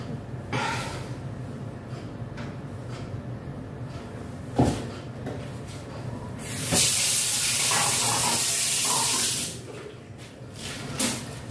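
A steady rush of water running from a newly installed kitchen faucet swells up midway and holds for a few seconds over quiet household background noise, with scattered knocks before and after.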